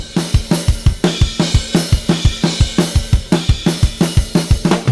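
A full drum kit plays a steady groove, with a punchy, layered kick drum thumping on the beats alongside crisp snare hits and cymbals, loud and close.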